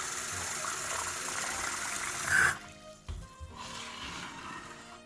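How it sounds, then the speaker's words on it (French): Sushi rice is rinsed in cold water, with running water gushing into a bowl for a couple of seconds, then stopping and giving way to quieter swishing, sloshing and a few clunks nearby. "il va falloir rincer le riz à l'eau froide"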